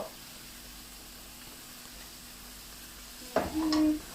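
Faint steady sizzle of food stir-frying in a pan, with a short burst of louder scraping and clatter near the end.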